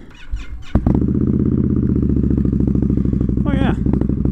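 An Indian Scout Bobber motorcycle engine, unridden for a couple of weeks, cranks briefly, then catches and settles into a loud, steady close idle, with a short squealing chirp near the end.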